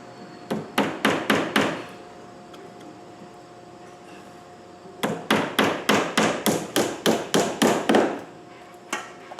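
A hammer drives trim nails during vinyl siding installation, two quick runs of sharp, evenly spaced taps, about eight then a dozen strikes, close and crisp with a pause between runs.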